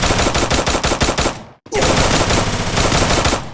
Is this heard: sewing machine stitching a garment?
no